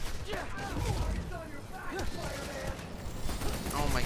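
Tank cannon and gunfire from Spider-Man: Miles Morales, a busy stream of blasts, booms and mechanical clatter running continuously beneath a player's talk.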